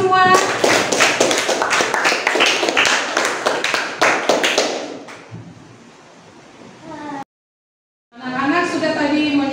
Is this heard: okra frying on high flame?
no